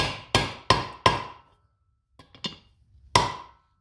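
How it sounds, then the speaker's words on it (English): Sharp hammer taps seat a bearing cap on a John Deere B tractor, three quick close blows followed by a pause, two lighter taps, then one final strike, each ringing briefly. "Grab my hammer here."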